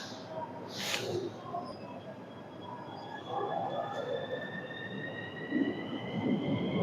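A metro train on a narrow Romanian station platform pulls away from the stop, its low rumble and rising motor whine building steadily, heard from fairly close on the platform.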